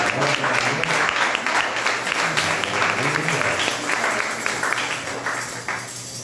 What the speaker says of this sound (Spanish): demos un aplauso a Dios por Mateito